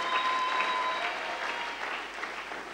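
A church congregation applauding: a dense, even burst of many hands clapping at moderate distance, steady for a few seconds before tapering slightly.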